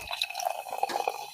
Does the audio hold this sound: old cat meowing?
no